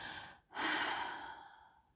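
A slow, deep breath, a long inhale followed by a gentle exhale, close and clear with no talking.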